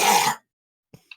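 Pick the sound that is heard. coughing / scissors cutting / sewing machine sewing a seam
coughing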